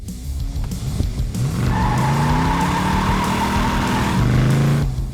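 A yellow Plymouth Cuda muscle car on a test drive revs and accelerates with rising engine tones and a sustained tire squeal, loud and close, fading slightly at the end.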